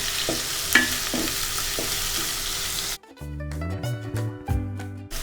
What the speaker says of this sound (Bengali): চিংড়ি মাছগুলো তেলের মধ্যে দিয়ে একটু ভেজে নিতে হবে।